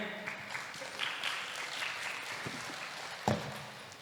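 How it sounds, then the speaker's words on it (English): Fairly faint applause in a university competition hall for a team at the grand final, its scattered claps thinning out, with a sharp knock or bump near the end. "Please give a big round of applause for Tên gì đặt đi."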